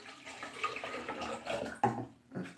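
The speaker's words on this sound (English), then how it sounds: "transfer water from pot" Water poured from a copper pot into a kettle early in the morning, a continuous splashing pour with a brief louder gush near the end, heard close with no talk.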